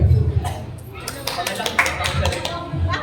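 Hands clapping at a children's birthday party game, a handful of sharp close claps scattered among excited voices and chatter.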